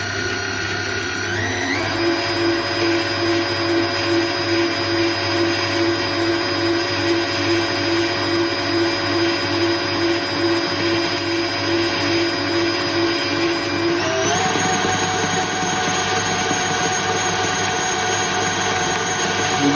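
Electric hand mixer beating lemon cake batter with eggs, a steady loud whirring drone that shifts pitch partway through as the speed changes, running continuously with no talk.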